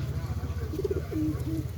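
Giribaz pigeons coo a few times, soft, low and close, over a steady low hum.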